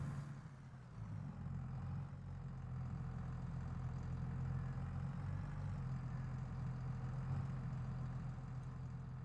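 A tractor engine idles in Farming Simulator 22, a steady low rumble that holds at an even level throughout with no talk.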